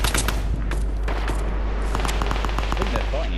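Rapid automatic gunfire and shots pile up as teams battle in Fortnite, a dense, loud stream of bursts against a low rumble, with a voice talking over it.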